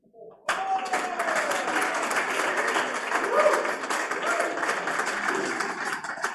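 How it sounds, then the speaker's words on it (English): At the Australian FinTech Awards, the audience breaks into applause for a category announcement. A full, even wash of clapping starts abruptly and holds steady throughout. "Big round of applause"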